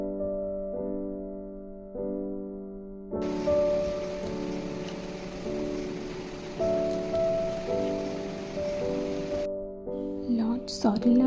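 Sudden heavy rain begins as a broad steady hiss, fairly faint, under a sustained musical tone, then cuts off near the end.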